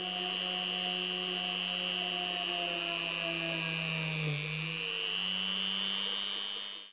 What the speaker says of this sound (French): Avec une mini perceuse équipée d'une mèche de 2 mm,